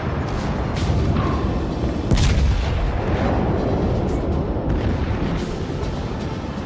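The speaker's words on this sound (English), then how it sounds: "the secondary batteries, once again, are doing not insubstantial amounts of damage" Secondary batteries of a warship in a naval combat video game fire in a dense barrage, booming blasts and gunfire bursts stacked over a constant roar, with one sharp loud shot standing out near the middle.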